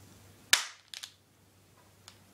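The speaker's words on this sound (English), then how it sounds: "I can actually shoot it. I'll shoot it at the pillar." A BB gun revolver fires at a pillar with one sharp, loud crack, followed by two fainter clicks and a soft tick a second later, with no voices.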